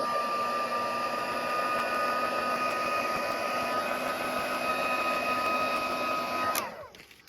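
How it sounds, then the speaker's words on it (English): A heat embossing tool melts embossing powder on paper snowflakes, giving off a loud, steady blower whir with a fine hiss that holds evenly, then cuts off abruptly near the end. "Then it's time to bring in my heat tool and heat those snowflakes until they shine."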